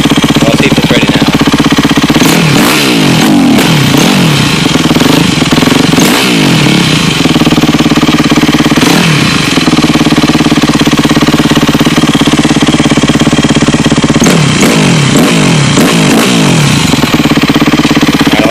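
A cold Yamaha YZ250F dirt bike engine idles loudly and very close, with a rough, steady clatter broken by several quick rev blips before settling back to idle.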